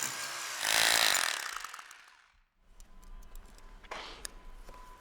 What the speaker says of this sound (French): On perce alors les trous pour les ancres de la coulisse et les ancres sont posées.